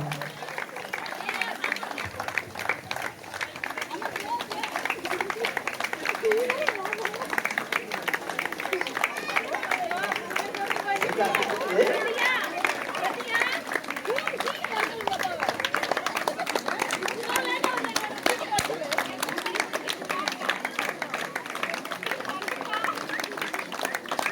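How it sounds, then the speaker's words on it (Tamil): Spectators clap in sustained, dense applause at a slow cycling race, with cheering and chatter mixed in and a voice speaking over the crowd. "எல்லாம் கைதட்டுப்பா."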